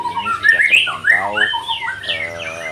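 A white-rumped shama (murai batu) calls loudly and close, a rich run of varied whistles, rasps and warbling phrases delivered in quick succession.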